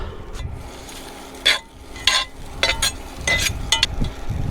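Diced steak and browned potatoes fry in a pan at a lakeside campsite, a low sizzle broken by several sharp scraping stirs and utensil clinks, close up with no talk.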